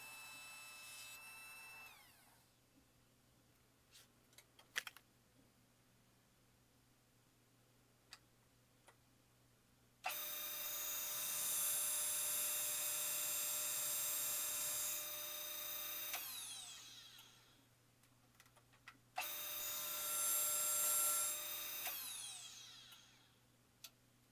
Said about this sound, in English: Then I sanded the wood only.